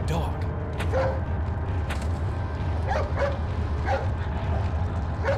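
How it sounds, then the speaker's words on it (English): A dog in Resident Evil 4 barks and yips in short bursts over a steady game rumble and creaking, with a voice talking partway through. "Hey, it's that dog."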